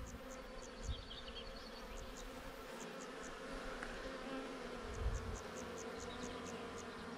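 Steady low buzzing of a honeybee swarm fills the air, continuous and fairly faint, with scattered high chirps from birds or insects in the background.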